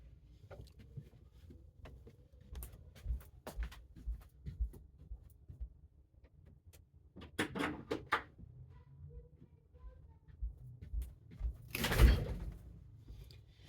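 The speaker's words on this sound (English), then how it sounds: "So hang on, I got to go shut my door." A door is pulled shut indoors with a single sharp thud near the end, after scattered light handling knocks and rustles in a quiet room.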